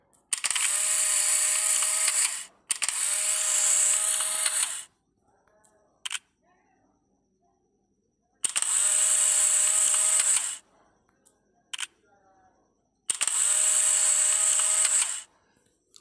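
An Android camera app fires its shutter sound effect several times, loud bright bursts of about two seconds each separated by quiet gaps, with small clicks in between.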